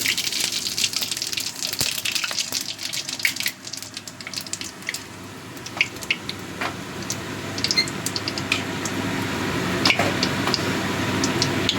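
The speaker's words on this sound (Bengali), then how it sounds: "তেলটা ভালো মতো গরম হয়ে গেছে এবার আমি দিয়ে দিচ্ছি গোটা জিরে" Whole cumin seeds hit hot oil in a pan and sizzle with a busy, crackling hiss, scattered pops and spits over a steady frying sound that carries on throughout.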